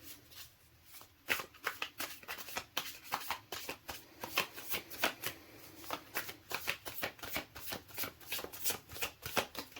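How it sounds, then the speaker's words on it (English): High-quality tarot cards being shuffled by hand, a close run of rapid crisp riffling bursts repeating in an uneven rhythm across the whole stretch, with no talk over it. "These are quite hard to shuffle."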